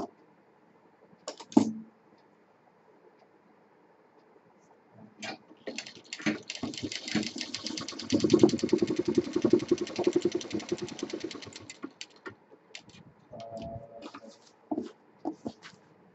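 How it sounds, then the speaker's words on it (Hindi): Sewing machine stitching doubled piping on a handmade shoulder bag, starting with a few short bursts, then a steady, close, rapid mechanical chatter for several seconds before slowing to a few last stitches. "अब इस पाइपिंग को हम यहाँ पे डबल करके सिल देंगे।"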